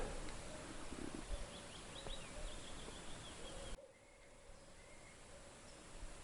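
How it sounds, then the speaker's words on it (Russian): Faint birdsong chirps drift through a noisy outdoor background, scattered calls at a distance, with a sudden drop in the background noise midway. "Надеюсь, слышите пение птиц."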